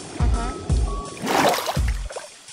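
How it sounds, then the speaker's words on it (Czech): Water sloshing in the Minecraft video game as a character swims, with a few short rhythmic splashing strokes and gurgles, fairly loud and close. "Teď jsem slyšel vodu, jak tam někde plavala."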